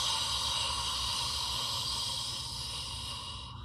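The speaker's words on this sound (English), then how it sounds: "It's also called a warrior breath." A loud, steady hissing exhale of warrior breath, like Darth Vader's breathing, holding strong for nearly four seconds before easing slightly at the end, with no talking.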